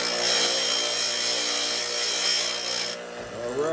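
Foley Belsaw 1055 Sharp All grinding the teeth of a circular saw blade, a continuous loud close-up abrasive whine that holds steady, then drops briefly near the end before a short tonal sweep.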